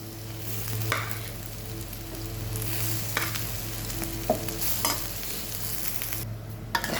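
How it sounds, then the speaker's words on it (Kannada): Cooked rice is mixed into a capsicum and spice mixture in a pan, with a soft steady sizzle broken by a few spoon scrapes and clinks against the pan, close and quiet, no voices. "ಇವಾಗ ರೈಸ್ ಸೇರಿಸಿ ನಾನು ಮಿಕ್ಸ್ ಮಾಡೋದು"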